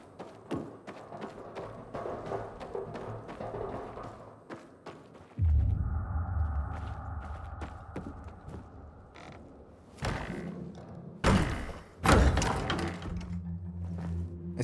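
Doors banging in the video game Dying Light 2: repeated creaks, mechanical rattles and heavy thuds come in irregular bursts over a rumbling background, with several loud slams near the end.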